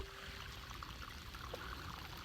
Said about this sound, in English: This one feeds out of the bottom of my pond and flows into the neighbor's pond